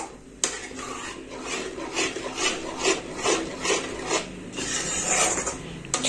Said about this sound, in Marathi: एकसारखं हलवत राहायचं बारीक गॅसवरती पहा